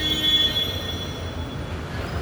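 A metro train at Vyttila metro station in Ernakulam gives a steady low rumble, with a thin high wheel squeal at the start that fades into a continuous rolling drone.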